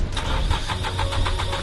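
A sailboat's engine cranks and catches after its fuel pump was replaced, then runs with a loud, steady, rumbling drone that has a faint pulsing beat and never drops out.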